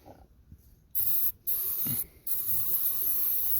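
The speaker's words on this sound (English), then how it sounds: "I'm going to spray some carburetor cleaner in it and this machine will start up." MotoMaster carburetor cleaner sprayed from an aerosol can into a lawn tractor engine, two or three loud hissing bursts separated by short pauses, close by.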